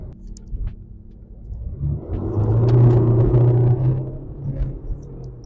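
Remapped car on Porsche wheels spinning its tyres under acceleration in second gear, a low rumbling engine and tyre roar that swells to a loud peak mid-clip and then eases off, with no talking.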